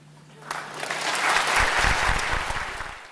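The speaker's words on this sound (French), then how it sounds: "je voulais vous applaudir" Audience applause at a live show in Toulon, swelling from a faint start into a full, dense wash of many people clapping, near and loud, holding steady to the end.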